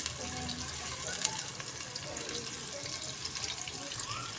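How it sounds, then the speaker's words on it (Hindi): A medium onion frying in a pan as a mixed dal tadka begins, a steady soft crackle and hiss with a watery running texture, close and fairly quiet throughout. "अब इसको हम फ्राई करेंगे अच्छे तरीके से।"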